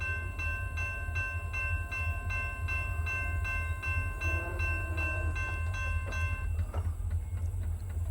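A long ethanol freight train rolls past beside a road near soybean fields on the west side of Mount Orab, its steady wheel and car noise continuous and moderately distant, with no talking.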